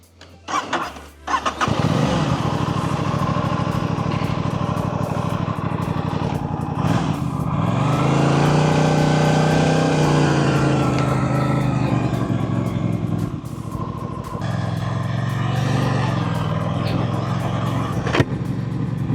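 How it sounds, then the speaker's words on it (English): An Aprilia RS660 motorcycle engine starts after a brief knock, then runs loud and steady with revving swells and idle dips, close by, under occasional faint voices. "we are officially on the Aprilia RS660"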